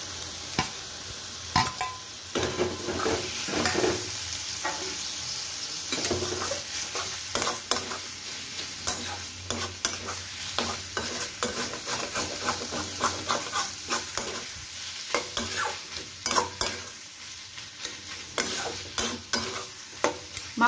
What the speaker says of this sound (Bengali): মাংসটা দিয়ে আমি খুব ভালো করে এটাকে কষিয়ে নেব